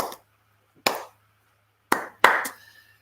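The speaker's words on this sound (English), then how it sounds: "I'll demonstrate with some clapping." Four sharp hand claps stand out against near silence, spaced irregularly: a single clap, another about a second later, then a quicker pair near the end, each crisp and close with a short room tail.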